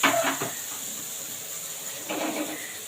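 Oil poured into a hot pan for frying bitter gourd hisses sharply at first, then settles into a steady, moderate sizzle with a second brief flare near the end.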